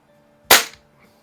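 A Crosman 766 air rifle fires a single pellet after repairs, a sharp close crack with a quick decaying tail, set against a quiet background.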